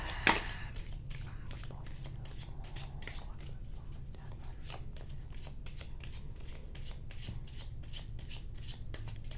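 Tarot cards shuffle steadily and close by in a quiet room, a continuous papery riffling rhythm of soft repeated flicks with a brief louder rustle at the start, no talk.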